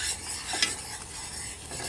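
Wine cake glaze bubbling at a rolling boil in a pot, a steady close hiss and seethe with a brief spoon clink, no talking.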